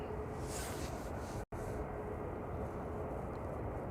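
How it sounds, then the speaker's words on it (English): A Ryanair Boeing 737-800 operated by Malta Air departs Manchester Airport for Tenerife, giving a steady, distant broadband engine roar with a brief dropout midway. "That's Ryanair, operated by Malta Air, off to Tenerife 737-800 9HQEG, flight 4332."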